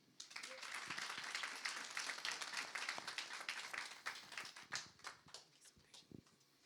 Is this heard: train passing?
no